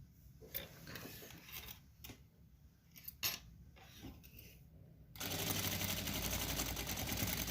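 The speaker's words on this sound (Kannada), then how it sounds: "ಒಂದು ಅರ್ಧ ಇಂಚು ಮಾರ್ಜಿನ್ ಇಟ್ಟು ಹೊಲಿಗೆ ಹಾಕೋಣ" A sewing machine stitches fabric with a half-inch margin, starting after scattered clicks and handling of the cloth, then running as a steady, close, continuous whir for the last couple of seconds.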